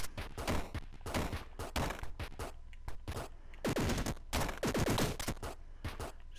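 Rapid bursts of gunfire from the gun-boots in the video game Downwell, loud clustered volleys separated by short gaps, with no talking over them.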